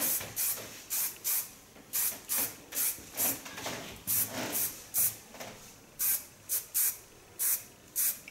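Hairspray sprayed onto a short pixie haircut: a rapid series of about twenty short, close aerosol bursts, each a sharp hiss, in an irregular rhythm with brief gaps, with no talk.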